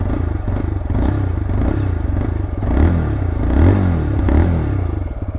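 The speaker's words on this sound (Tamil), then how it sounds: "உங்களுக்கு த்ராட்டில் கொடுக்கும்போது இந்த மாதிரி சவுண்டு வரும்." A 2025 TVS Raider 125 motorcycle with TFT display revs under throttle at close range, its engine rising and falling in several pulsing swells over a steady rough idle.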